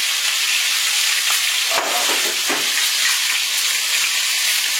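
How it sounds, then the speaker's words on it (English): Steady, loud sizzling and crackling of veal browning in a hot frying pot, a constant hissing wash with a few bubbling pops. "I took half of my veal or calf meat and browned it and put it in the frying pot"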